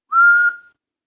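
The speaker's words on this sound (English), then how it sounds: "if I whistle," A single clear whistled tone from a person, held steady for about half a second before fading with a short tail, close and loud with no talk over it.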